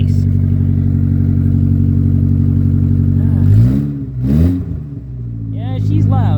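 A Chevy Tracker engine runs loud at idle, a steady heavy drone with a dip and swell midway as the revs shift, close and continuous throughout.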